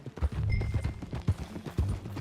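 Horse hooves clip-clopping at a steady riding gait in Red Dead Redemption II, with several dull thuds rising over a busy low game soundtrack.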